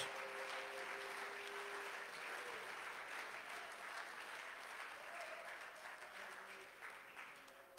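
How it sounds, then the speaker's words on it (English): A church congregation claps its hands in praise, sustained dense applause filling the room steadily for several seconds with faint crowd voices underneath. "Give him a hand clap of praise in the name of the Lord Jesus Christ."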